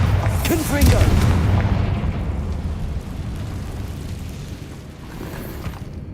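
Back-to-back Bombarda and Confringo spell blasts in the Hogwarts Legacy video game, a deep booming explosion followed by rumbling debris, loud and close, with a voice speaking over the first blast.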